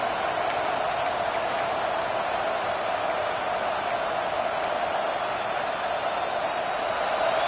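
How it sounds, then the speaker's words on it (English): A large stadium crowd at a Georgia vs LSU American football game roars steadily in a loud, unbroken wash of noise, with a few faint high whistles near the start, as the defense faces a red zone stand. "And here comes the noise. This crowd is trying to inspire this defense to make a big red zone stop."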